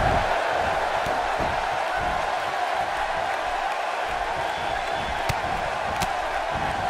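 A steady roar of arena crowd noise in WWE 2K18, dense, continuous and constant in level for the whole stretch, with no distinct cheers or claps standing out from the wash.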